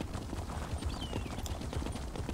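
A horse ridden in The Elder Scrolls Online clip-clops in a steady, rapid hoof rhythm under constant ambient noise, close and moderately loud.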